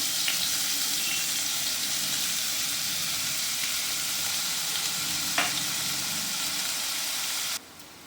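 Onions and green chilies fry in a pan with a steady, loud, close sizzle and occasional clinks from stirring, fading slightly at the very end.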